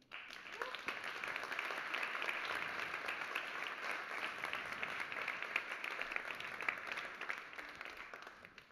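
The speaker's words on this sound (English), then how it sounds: "So please, everyone, give a huge round of applause for all of them." A hall audience at an AI summit applauding, a steady, fairly even wash of many hands clapping that swells quickly and holds for several seconds before tapering off, heard from a moderate distance with no talking over it.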